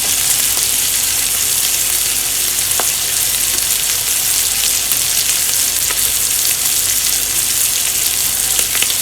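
A single beef patty, seasoned with pepper and a little salt, fries in a pan, giving a steady, even sizzle that holds loud and close throughout with a few faint pops.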